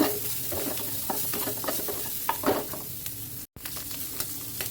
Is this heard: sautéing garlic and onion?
yes